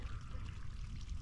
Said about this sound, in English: There's the opposite view of that little water spout.